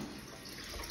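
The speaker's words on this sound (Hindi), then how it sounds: "पानी भरेगा।" Water runs steadily from a tap in a home, a constant even splashing gush that stays faint and unbroken throughout, with no talking.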